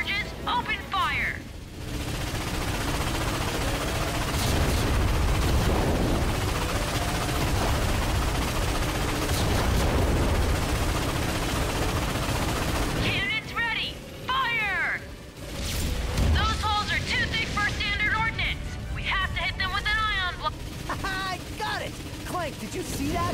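Cannon blasts and gunfire against warships in the PS4 Ratchet and Clank reboot on Planet Batalia, a dense, continuous barrage of battle noise with bursts of shots, explosions and mechanical effects throughout, with voices speaking over it.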